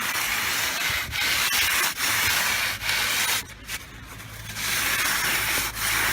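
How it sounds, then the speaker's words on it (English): Kiln bricks for a fast-fire kiln rubbed back and forth on sandpaper fixed to a board, giving a steady, loud, close scraping with regular stroke changes and a brief quieter stretch midway. "So what I'm going to do is take my piece of sandpaper on this board,"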